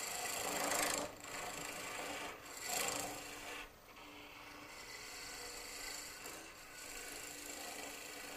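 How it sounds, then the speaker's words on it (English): A skew chisel takes cleaning cuts across a long-stemmed wooden goblet spinning on a lathe, giving a soft, continuous scraping hiss with a few swelling passes and brief dips. "Going across there with the skew to clean up."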